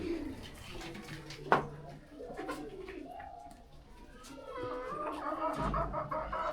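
Pigeons coo softly in a steady chorus at a pigeon farm beside a Brahma chicken farm, with occasional clucking birds and faint background voices mixed in.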